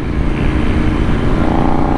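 Royal Enfield Interceptor 650 motorcycle on a test ride, its engine droning steadily and loudly with a pulsing exhaust note and wind rush, no voices.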